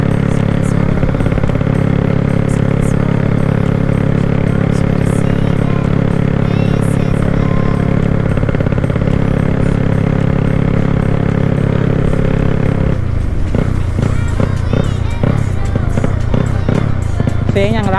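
A Honda Wave 110i motorcycle with a 72mm four-valve engine ridden on the road, its loud continuous engine drone filling the whole stretch, with wind rumble and clattering bumps near the end and a voice talking over it.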